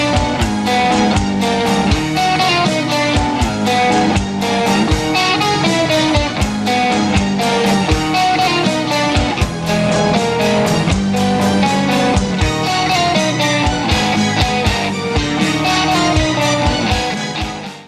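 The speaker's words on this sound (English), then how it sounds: "Oh yeah, and of course the riff sounds like this." A dense, rhythmic guitar riff from a song plays loud and continuous, with sharp repeated strikes driving a steady groove throughout.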